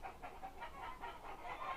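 Chickens cluck in a quick rhythmic series of short, fairly faint calls at a moderate distance, with no talking over them.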